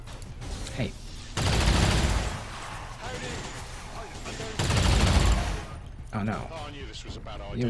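Gunfire from the video game XCOM 2 (Long War 2 mod) comes in two loud, dense bursts of rapid shots, each lasting about a second, with a voice talking between them.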